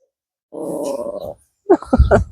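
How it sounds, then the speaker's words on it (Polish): A dog growls low and steady for under a second, close and loud, then gives a few sharp grunting yips and snorts in a quick burst. "Każdego się boi, ale warczy i szczeka."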